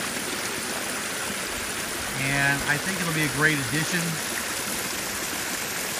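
Water from a garden waterfall cascades over rocks in a steady, close, continuous rush, with someone talking over it for a couple of seconds midway.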